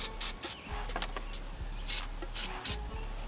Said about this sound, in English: But we gonna put some penetrating oil